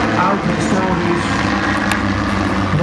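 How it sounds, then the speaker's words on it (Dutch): Old historic aircraft with engines over forty years old fly overhead in a box formation at an air show, making a loud, continuous droning roar throughout, with voices present underneath. "Wezenlijk mooi geluid is dit van deze vliegtuigen."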